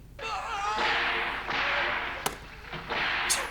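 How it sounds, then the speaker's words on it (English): A loud whip cracking in the film Young Frankenstein, with sharp snaps cutting through a dense, roaring noisy backdrop that swells and fades, and faint voices underneath. "That whip is so loud."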